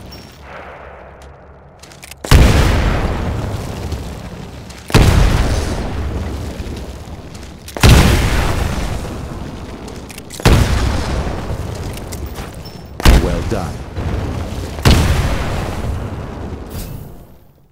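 Six heavy grenade blasts go off in turn in the shooter game Titanfall, each a loud, close boom with a long rumbling tail, spaced a few seconds apart.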